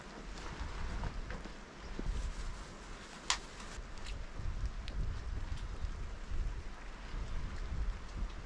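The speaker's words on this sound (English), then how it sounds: "It's still raining." Steady rain falls on a Scottish coastal path, a faint continuous hiss mixed with wind buffeting, with a few soft knocks and no talking.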